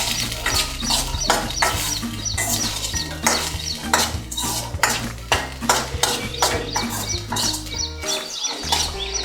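A spatula stirs green peas masala poriyal in a metal pan, producing repeated scraping and clinking strokes in an uneven rhythm, close and fairly loud over a faint sizzle, with no voices.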